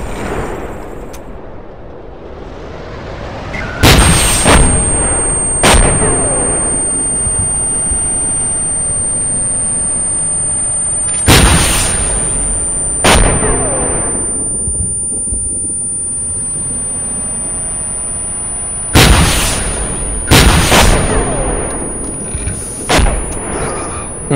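Anti-tank rockets fired at a tank turret in a military video game, heard as several loud separate blasts and booms spaced across the clip over a constant high whine, with a few quieter gaps between.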